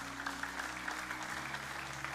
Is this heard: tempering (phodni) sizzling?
no